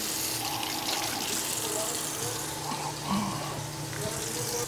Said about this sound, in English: I'm gonna hit this with a little water.